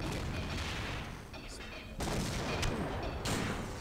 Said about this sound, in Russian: Получи фашист гранату.